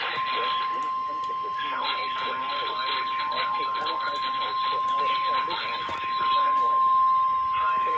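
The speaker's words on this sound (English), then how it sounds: "The warning, alarm tone, and the emergency alert system have just been activated." A NOAA weather radio emergency warning alarm tone holds a single steady, piercing pitch throughout, sounding loud and continuous over a busy, noisy broadcast background.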